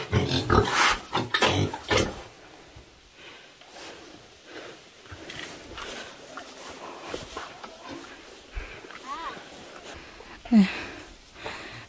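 Pigs on a rural Vietnamese homestead grunt and snort in bursts, loudest early on, with rustling, scattered thumps and faint voices in between.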